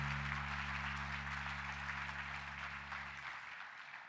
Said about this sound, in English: So let's give them a hand one more time.